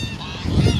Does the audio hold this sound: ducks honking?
yes